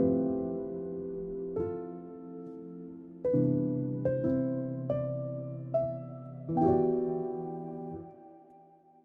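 A chord progression in which every chord carries an added 7th and 9th unfolds as soft, sustained jazzy harmonies. About eight chord changes are struck, and each rings and decays in a gentle, unhurried rhythm at moderate volume with no talking.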